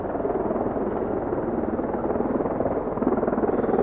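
Helicopter flying overhead at night, a steady throbbing rotor chop with a low engine drone, fairly close and continuous, rising slightly in loudness toward the end.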